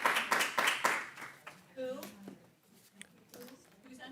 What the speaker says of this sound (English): I'm going to have to ask some of you to leave if you do not stop clapping